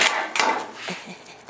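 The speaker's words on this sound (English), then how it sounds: "and then hammer it into here" A board being hammered into place gives two sharp, loud wooden knocks close by, followed by softer scraping and lighter taps as the board settles.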